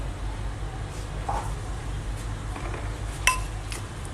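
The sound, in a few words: scooping food onto a plate, dishes clinking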